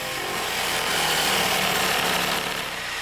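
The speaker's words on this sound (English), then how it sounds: "Follow the line and saw the hole for the sink." A jigsaw cuts a sink opening through a kitchen countertop during an IKEA kitchen installation: a steady, loud, close buzzing rasp of the blade that runs unbroken and alone.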